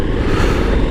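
Engine of a KTM 1290 Super Adventure motorcycle running while being ridden, a loud, close, steady low rumble with some wind and road noise mixed in.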